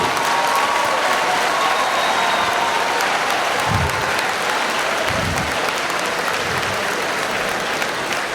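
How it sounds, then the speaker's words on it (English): Audience applause for a man at a 2025 matric lecture, a dense steady wash of many hands clapping throughout, loud and continuous with a faint voice or two in the crowd. "So help me to clap for this man"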